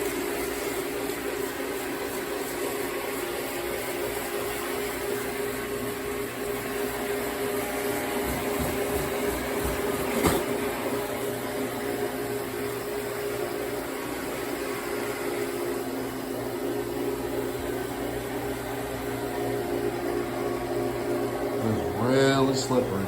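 Wet vacuum droning steadily as it sucks up stripped old floor finish and liquid stripper, a loud continuous whine with a brief bump near the end.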